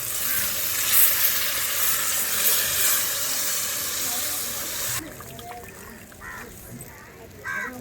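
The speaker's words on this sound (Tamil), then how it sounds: "புளி கரைச்சி ஊற்றியாச்சு. நல்லா கொதிக்கிட்டோம்." A tamarind fish curry simmers in a pot in a village kitchen, giving a steady, loud sizzling and bubbling hiss for about five seconds before it drops to a quieter, softer bubbling.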